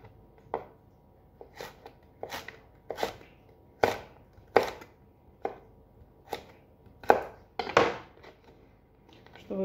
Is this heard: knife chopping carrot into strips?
yes